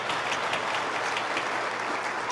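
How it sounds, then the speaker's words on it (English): Steady, full applause from a crowd at a high school class night ceremony, even and sustained throughout with no voices over it. "So I think he deserves a huge clap for that."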